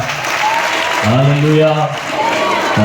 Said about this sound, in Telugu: ఒకసారి గట్టిగా చప్పట్లు కొడుతూ